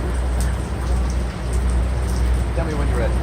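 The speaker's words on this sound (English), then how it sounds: "It is raining." Steady rain falls outside as a continuous soft hiss with a low rumble underneath, and a voice speaks briefly over it.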